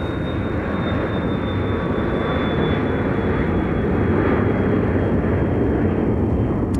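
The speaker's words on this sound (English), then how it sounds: "There's a MAX 8 coming in from Las Vegas" A Boeing 737 MAX 8 airliner arriving from Las Vegas lands at Dallas Love Field, heard as a steady, loud broadband engine roar with a faint high whine, constant throughout.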